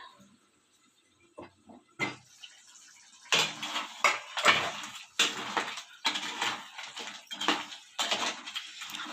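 A metal pot lid clatters against a pot of country field-crab curry, in irregular sharp clinks and scrapes with short pauses, close by and moderately loud.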